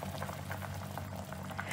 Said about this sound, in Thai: เราก็เอาลงต้มเลยค่ะน้ำเดือด